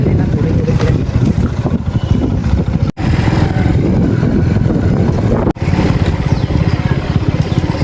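Car running on ethanol-blended E20 petrol, its engine drone steady and close throughout, with two brief drops where the sound cuts out, and voices talking over it.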